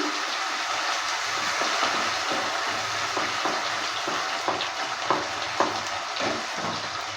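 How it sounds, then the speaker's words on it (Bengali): Spice paste fries in a pan while being stirred for a rohu fish and potato curry: a dense, continuous sizzle with scraping stir strokes near the end, close and loud. "মশলার পেস্টটা দেওয়ার পর নেড়ে চেড়ে নিচ্ছে"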